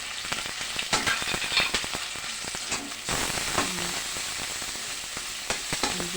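Ground meat sautés in a pan with a crackling, popping sizzle and busy stirring clatter, which quiets into a steadier hiss about halfway through.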